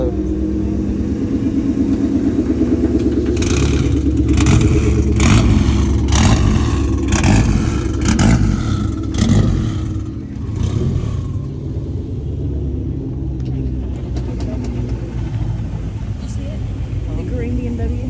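A car engine runs at an Autowerks car meet, revving in a series of rapid bursts before settling to a steady idle, with people talking in the background.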